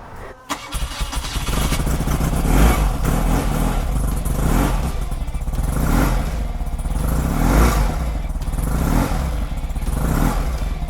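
A 1980s BMW R80/GS boxer-engine motorcycle cranks and catches, then idles with a throbbing beat and several loud revs swelling and falling, close and alone.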